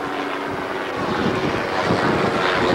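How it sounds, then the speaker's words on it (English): Helicopter passing over a sailboat coming into a Bahamas harbor, mainsail still up; a steady, fairly loud rotor and engine drone swells over the water, with wind and boat noise underneath. "Helicopter checking us out."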